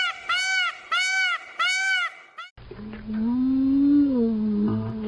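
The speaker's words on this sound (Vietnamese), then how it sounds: "Con công." A peacock gives three loud, repeated honking calls in quick succession, followed by a lower, sustained animal cry over background noise.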